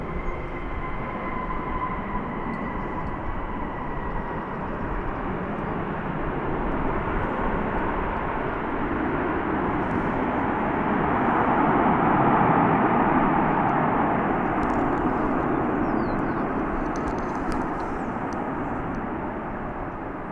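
An American Airlines Boeing 737-800 arriving from Minneapolis roars past at DFW International Airport as a broad, steady jet rumble that swells to a peak midway and slowly eases off, with no talk.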